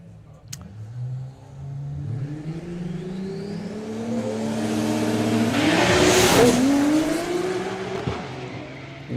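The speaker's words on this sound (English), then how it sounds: "the absolute standout, Wojciech Mucha with the Cobalt in the Kestrel lane" A front-wheel-drive, 6-cylinder Chevrolet Cobalt drag racing car launches down the strip, its engine revving hard and climbing through the gears, loud and close, with a brief tire chirp and a rising roar toward the end, with no talk.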